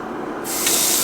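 Water bursts from a newly plumbed tap in a sudden steady hissing gush that starts partway through and continues at a constant moderate level.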